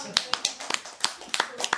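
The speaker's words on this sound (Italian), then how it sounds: "un applauso, grazie" Audience applause in a live comedy-music show, sparse and uneven: about a dozen separate claps in 1.8 seconds, scattered and irregular, moderately close, with no voices.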